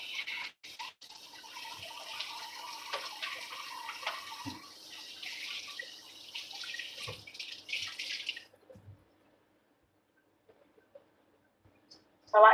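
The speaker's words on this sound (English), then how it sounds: "So I like to rinse out the sink." Water running from a tap into a kitchen sink during rinsing, a steady splashing stream for several seconds that stops, followed by quiet and a brief clatter.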